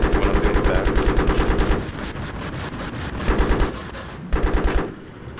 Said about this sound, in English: still shoots me with a machine gun